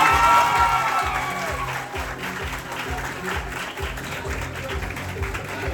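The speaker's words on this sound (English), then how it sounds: "ladies and gentlemen, please give a round of applause for Anaya Thomas." An audience claps for a contestant at a junior tourism ambassador event, with a loud burst of applause that settles into steady clapping. Background music plays under it, with some faint voices.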